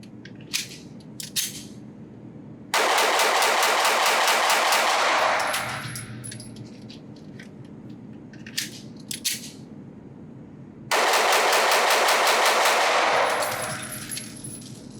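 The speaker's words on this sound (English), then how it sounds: "do a few mag dumps with this pistol" Rapid magazine dumps from a pistol fitted with a Fortic EP1 red dot at an outdoor range come as two long bursts of fast, loud, close shots, with scattered single clicks and handling sounds between them.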